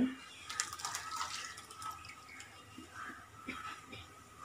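Water poured into a bowl to rinse out leftover curry leaf paste while making curry leaf vadam, a soft trickling splash with faint drips at close range.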